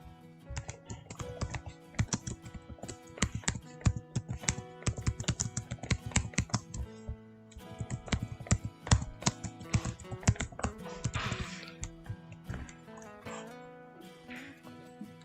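Typing on a computer keyboard while building a spreadsheet, rapid close clicking keystrokes in bursts with a brief pause midway, a faint dog whimper in the background.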